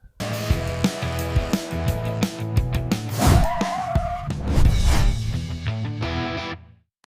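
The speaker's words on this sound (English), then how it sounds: "It's just somebody driving a Clodbuster." A Clodbuster RC monster truck drives about, its electric motor whining and revving in surges with tire scrabbling and skidding, close and fairly loud before it stops.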